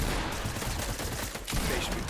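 Dense, continuous gunfire fills a Fortnite match, with sniper shots blending into a loud, unbroken wash of game combat noise.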